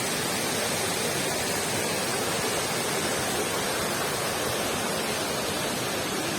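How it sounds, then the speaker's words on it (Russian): A steady, dense roar of falling water from the Mendelikha waterfall at Rosa Khutor, heard from very close, constant and loud with no breaks. "Максимально близкое место к водопаду"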